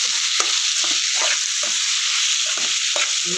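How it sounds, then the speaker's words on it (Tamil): Mushrooms fry in a pan for a gravy, giving a steady close sizzle while a spoon stirs them in several short scraping strokes, with no voices. "நல்லா ரோஸ்ட் ஆகிடுச்சு காளானை சேர்த்துக்கலாம் நல்லா திரட்டி விடுங்க"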